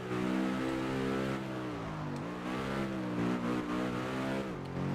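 Car engines revving in the racing video game Test Drive Unlimited 2, a loud, continuous drone whose pitch rises and dips through gear changes for the whole stretch, close and steady.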